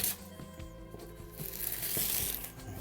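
Kitchen scissors cut open the plastic packaging of a Spin Master Monster Jam mystery toy, giving soft crinkles, snips and crunches of plastic close by, fairly quiet with no talking.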